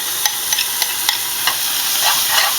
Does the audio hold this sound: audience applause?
no